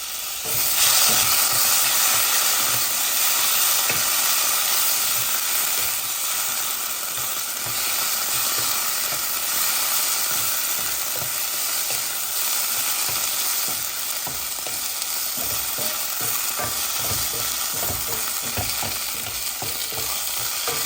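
Tomato sauce sizzles and fries with toasted rice in a pan for Spanish rice, a steady close crackling hiss with occasional stirring scrapes, no talking.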